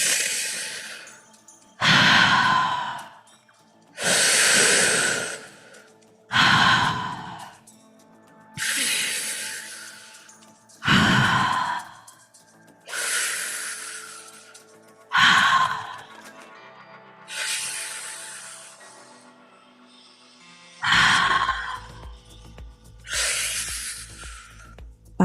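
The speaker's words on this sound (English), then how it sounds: "we're going to begin our breathing in through the mouth and out through the mouth" Slow, deep breaths drawn in and pushed out through the mouth during a guided breathing session, a regular cycle of about a dozen rushing, airy inhales and sighing exhales with quiet gaps between them.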